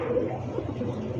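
A big white Lakha pigeon coos in a low, continuous murmur, close by and moderately loud, with no voices over it.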